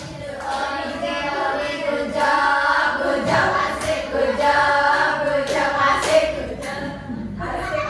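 A group of adults claps in rhythm while chanting together in a training-session setting, the sharp claps punctuating the voices in a repeating pattern.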